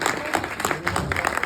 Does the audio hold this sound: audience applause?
yes